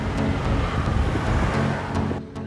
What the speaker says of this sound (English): The one we are driving today is the 350D diesel engine AMG line, which has a 3-liter V6 engine producing 286 bhp and 600 Nm of torque.